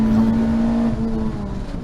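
Race car engine at full throttle in-car at Rockingham circuit during a club race, a loud steady high drone with a gear change and tone shifting as it accelerates out of the chicane.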